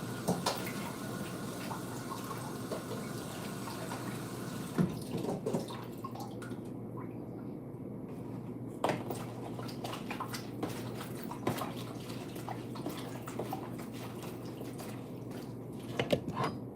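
Running water pours steadily while a coconut is washed by hand, with irregular splashes and drips over a continuous hiss, fairly quiet and close.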